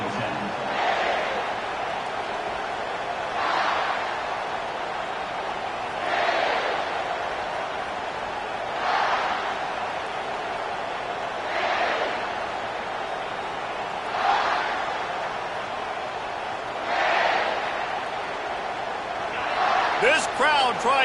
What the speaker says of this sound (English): This crowd trying to show them what it's going to be like all day in this house.